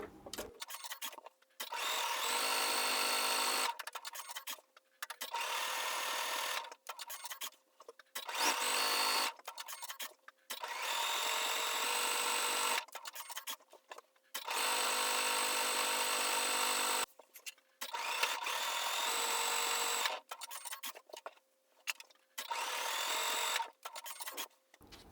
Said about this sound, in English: I'm using 1/4 inch presser foot here. So I have the presser foot lined up along the line and then I'm sewing on each side of it.